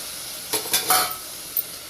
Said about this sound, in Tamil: கொஞ்சம் அடிப்பிடிக்காமல் நல்லா வதக்கிக்கோங்க